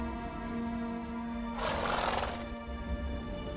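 In the video game The Witcher 3: Wild Hunt, the horse Roach gives one fairly loud neigh partway through. It stands over a steady backdrop of droning, tonal game ambience.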